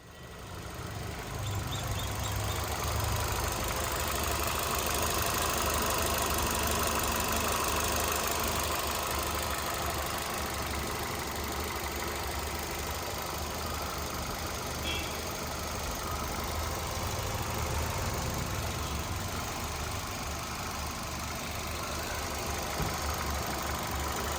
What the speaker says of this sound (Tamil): இப்போ நெக்ஸ்ட் நம்ம இந்த வண்டியோட இன்ஜினை ஸ்டார்ட் பண்ணி இன்ஜினோட சவுண்ட் எப்படி இருக்குன்றதை காட்டிடலாம்.